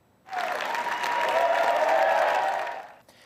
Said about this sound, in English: The former journalist was greeted with applause from both sides of the chamber